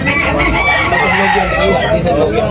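Roosters crow loudly over a dense, noisy crowd of clucking chickens at a fowl market, with calls overlapping continuously.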